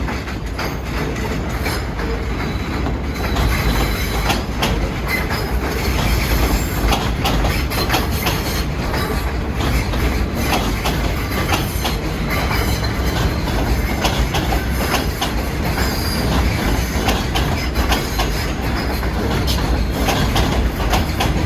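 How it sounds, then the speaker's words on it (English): A 207th Street-bound A train of R46 subway cars passes up from Far Rockaway, a loud, sustained rumble with rhythmic clickety-clack of wheels over rail joints and faint wheel squeal, close by and constant. "Oh, here comes a 207th Street bound A train with R46s coming up from Far Rockaway."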